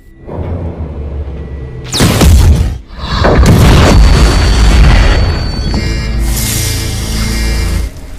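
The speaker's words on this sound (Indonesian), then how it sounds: "Robert membunuh anak buah Teddy terakhir dengan ledakan gas" A loud, deep boom of a gas explosion bursts out suddenly, followed by a sustained roaring rumble and debris-like crackle that lingers for several seconds.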